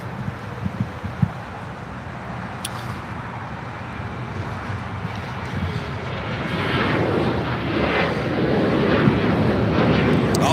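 A Boeing 747-8 taxiing at LAX toward runway 25 left gives a broad steady jet rumble and roar that swells gradually louder toward the end, heard from a distance outdoors with wind noise.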